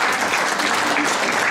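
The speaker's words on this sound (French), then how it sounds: "on peut l'applaudir." Dense, steady applause from an audience at an association's annual general meeting, clapping for a member named Philippe, loud and close throughout without a break.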